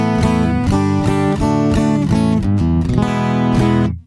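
An acoustic guitar plays a strummed chord pattern, bright and full with a slightly direct, plugged-in tone, ringing out at the end.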